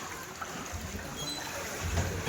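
Floodwater from the overflowing Mahuva Malan River surges at a house gate with a close, continuous rushing wash that grows slightly stronger toward the end.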